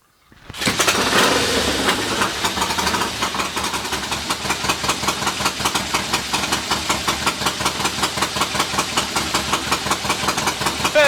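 A Triumph T140 motorcycle engine cranks and fires up, then settles into a loud, steady, rhythmic idle with an even ticking beat, close up and alone.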